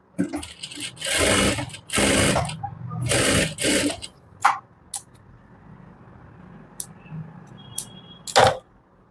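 A sewing machine double-stitching pant fabric: several sustained, loud runs of stitching at close range, separated by short pauses and a few sharp clicks, without talk.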